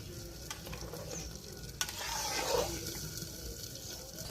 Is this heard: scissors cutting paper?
no